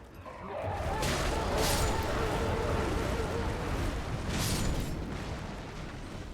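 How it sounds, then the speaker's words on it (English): An explosion goes off during combat in Elden Ring, a rumbling roar with crackling bursts that swells and lingers for several seconds. A second surge rises near the end. "Someone managed to get off their explosion."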